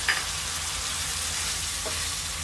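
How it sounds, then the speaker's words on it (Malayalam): Paneer fries in hot oil for paneer masala, giving a steady, close, broadband sizzle that holds evenly throughout with no voices over it. "ഈ ഒരു ടൈമിൽ നമ്മൾ എടുത്തു വെച്ചിരിക്കുന്ന പനീർ ഇതിനകത്തേക്ക് ഇട്ട് കൊടുക്കാം."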